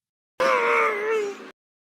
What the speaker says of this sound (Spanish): Un paciente gritaba de dolor.